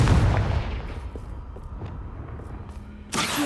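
Confringo blast spell cast in Hogwarts Legacy on PS5, a loud booming explosion at the start that rumbles and decays over several seconds, followed by a second sharp burst near the end.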